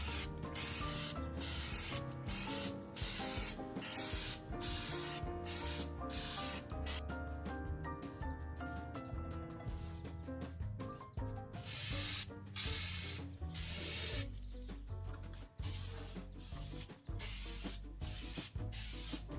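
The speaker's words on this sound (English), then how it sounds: "This is the Rust-Oleum multicolored texture spray." Rust-Oleum multicolored texture spray paint hissing from the can onto planters in repeated bursts, each short spray separated by brief gaps, close and steady with a faint rattle of the can.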